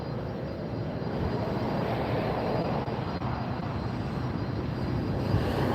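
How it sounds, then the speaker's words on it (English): A helicopter passes over the Mandalay in Las Vegas, near an airport, as a steady, loud broadband rotor and engine roar that holds evenly throughout with no talk. "See a helicopter going over the Mandalay there."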